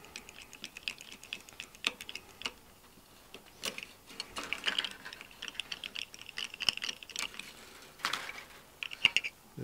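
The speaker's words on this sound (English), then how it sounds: "Unwind these strings." A string winder unwinding the strings of a bass guitar produces quick, irregular ticking and clicking bursts, close and fairly quiet, scattered across a near-silent background.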